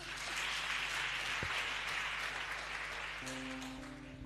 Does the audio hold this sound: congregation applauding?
yes